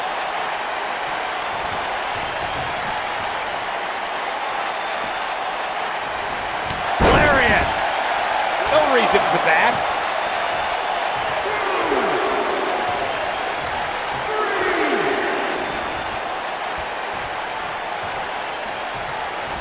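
A SmackDown arena crowd in WWE 2K19 roars steadily in the background, with a loud slam and sharp impacts rising above it and a commentator talking over the noise.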